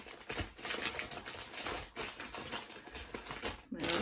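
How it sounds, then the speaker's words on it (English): Rustling and clattering as hands dig through a basket of wrapped Advent gifts, a dense run of crinkly, tapping handling noises close to the microphone, with a brief pause near the end. "I always thought this rustling through the basket might be really annoying for people"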